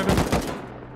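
A single loud, close gunshot from the survival video game Rust, a sharp blast with a short rumbling decay and no talk.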